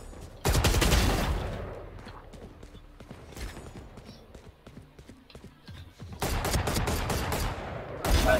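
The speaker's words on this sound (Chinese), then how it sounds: "太多枪声的时候都不知道看哪里" Bursts of gunfire from the Valorant shooter video game, loud rapid volleys at the start and again near the end with scattered single shots between, no talking.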